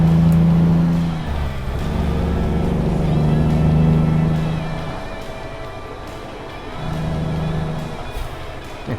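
A heavy restored Peterbilt 379 Outlaw truck engine in American Truck Simulator drones loud and close, with a low steady rumble that swells and eases as it revs and shifts, and no talk over it.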